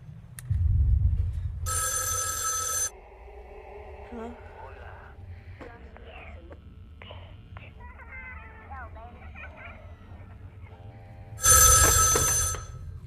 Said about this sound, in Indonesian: terbangun karena mendengar suara telepon rumahnya yang berbunyi